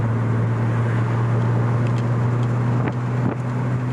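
Porsche Boxster 987 engine while driving, a steady low hum with road and wind noise heard from inside the car, continuous and even with a couple of brief bumps near the end.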